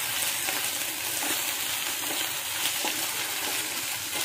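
Potatoes cooking covered in a pan over a low-medium flame give a steady, continuous soft sizzle and hiss with faint bubbling. It is close and even throughout, with no talk.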